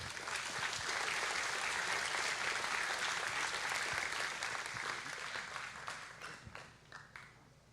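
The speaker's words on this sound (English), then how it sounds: "Round of applause for Remco." Audience at a Rust and Ethereum tech conference applauding a speaker named Remco, sustained clapping from a crowd that swells quickly, holds steady, then thins into scattered claps and fades out.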